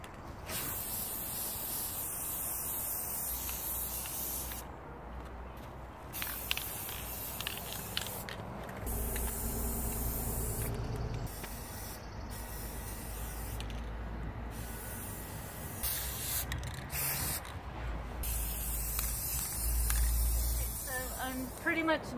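Flat black spray paint hisses onto a 1980s coffee table base in repeated bursts of varying length separated by brief pauses, close and fairly quiet, with low background rumble.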